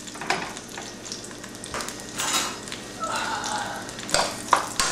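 Small red onions sautéing in a pan for pinakbet, a bright sizzle rising in bursts with a few stirring scrapes, close and moderately loud without speech.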